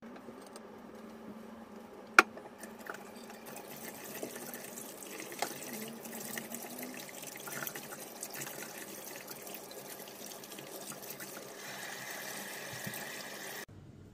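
Tap water runs steadily into a sink while bleach is rinsed off a synthetic wig lace, a continuous close splash and trickle that shifts slightly as the lace is moved under the stream.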